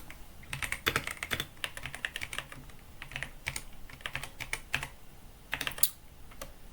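Close, quick keystrokes in irregular bursts and short pauses as an IP address is typed on a computer keyboard while configuring a network router interface, with no voices.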